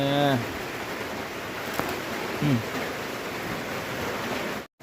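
Heavy rain falling steadily since morning, a constant hiss of rainfall heard outdoors, with a short vocal sound near the start and another brief one midway.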